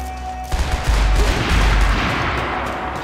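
Dual-wielded assault rifles fire in the Max Payne 3 multiplayer game, a loud dense sustained burst of gunfire starting abruptly and rolling on without a break for under three seconds.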